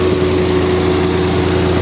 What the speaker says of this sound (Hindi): ट्रैक्टर तो बहुत देर का स्टार्ट कर दिया मैंने